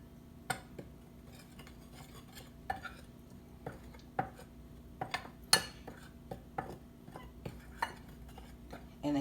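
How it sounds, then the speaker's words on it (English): A spoon clatters and scrapes in a bowl while herring fritter batter of flour and fish is stirred, giving a string of irregular close clinks and taps over quiet kitchen background. "I'm going to go ahead and give it a mix."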